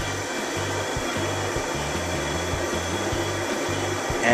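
Big mixer churning boilie dough with flavouring added to the dry mix, a loud steady motor drone with a rhythmic low thumping as the paddle turns, continuous and close.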